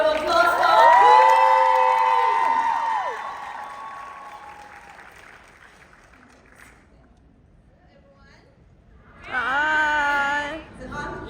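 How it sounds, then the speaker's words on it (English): Audience applause and cheering at a high tea event, loud and sustained for several seconds, fading to near silence, then a second burst of clapping and cheers with voices mixed in. "big round of applause for our queen."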